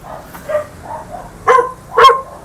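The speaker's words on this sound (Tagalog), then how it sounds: "laki ng mga aso oh" Big guard dogs bark at a house, with two loud, close barks standing out after softer yips and whines.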